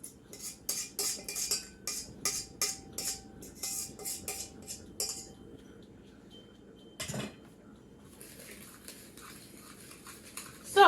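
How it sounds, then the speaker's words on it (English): Wet and dry cupcake mix for red velvet cupcakes, with butter, stirred in a bowl: quick scraping strokes in bursts clack and scrape against the sides, then pause, with a single knock near the end. "Now we are going to mix until combined"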